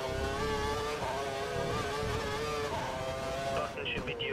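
An F1 car engine in F1 2012 screams at full revs, a high, sustained whine with slight pitch waves, heard under continuous commentary.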